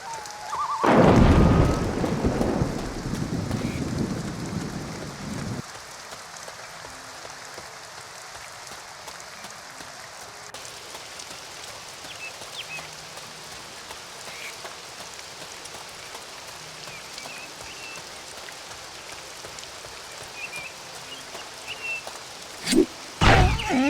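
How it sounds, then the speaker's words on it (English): Steady rain in the video game Two Worlds, a constant hiss running through the whole stretch, louder at the start with a burst of heavier noise and a couple of sharp clicks near the end. "Rain again."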